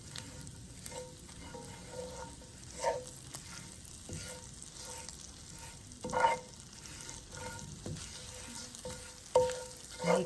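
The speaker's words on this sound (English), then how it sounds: "This is sprigs of rosemary and thyme and crushed garlic, and I am sauteing it in some butter" Sprigs of rosemary and thyme with crushed garlic sauté in butter in a skillet, giving a steady, close sizzle broken by occasional stirring scrapes and sharper spits, with no talking.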